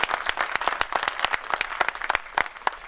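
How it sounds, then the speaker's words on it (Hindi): Hearty applause from an audience at a Kavi Diwas poetry gathering, the poets being welcomed with sharp, irregular claps that rise and fall across a few seconds, fairly close and with no voices over them. "एक बार जोरदार तालियां बजाकर हमारे कवियों का उत्साह बढ़ा"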